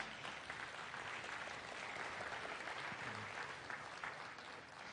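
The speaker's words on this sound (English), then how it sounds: "Everybody give a round of applause." A crowd applauds steadily for about five seconds, the clapping dense and even from start to finish with no voices standing out.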